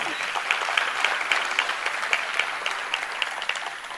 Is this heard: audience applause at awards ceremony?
yes